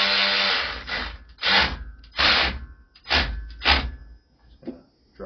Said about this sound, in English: I'm going to get my electric ratchet here.